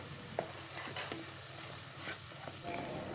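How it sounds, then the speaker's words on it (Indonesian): Noodle broth seasoned with stock powder, salt and pepper being stirred in a pan, a soft continuous sizzle with light scraping strokes, close and without talk. "Kemudian diaduk-aduk supaya semuanya tercampur merata."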